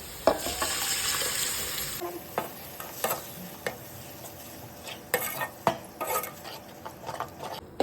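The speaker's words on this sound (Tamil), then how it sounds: "இப்போ இந்த ரத்தம் கரைச்சி வச்சுருக்கோம்ல, இப்போ இது வந்து இதில் ஊற்றிக்கலாம்" Goat blood poured into a pan of sautéed ingredients and stirred as it fries: a brief gush of pouring with sizzle at the start, then intermittent metallic scrapes and clinks of a spoon against the pan.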